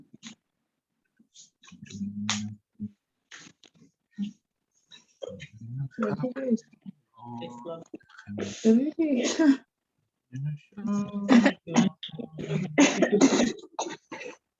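Several people in a room cough and clear their throats in scattered, uneven bursts, some close and sharp, mixed with quiet chatter and small clicks.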